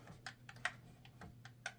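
Keys on a 1960s Smith Corona Galaxie II manual typewriter are struck about eight times in quick, uneven succession, each a crisp clack. Close but soft, with no voices.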